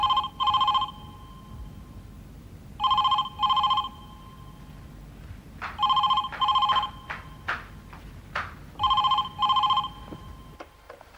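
A telephone rings in an office: four double-pulse bursts spaced about three seconds apart, loud and close, with light clatter between rings and no talking.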